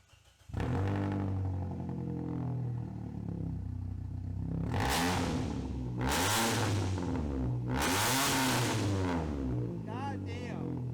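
A Toyota with a custom exhaust starts up and revs hard several times, each sweeping surge loud and close, with a raspy idle between pulls and voices briefly audible.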